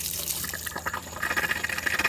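Fresh water runs from an RV tap in a gushing, splashing stream that grows louder and denser near the end, and no voices are heard.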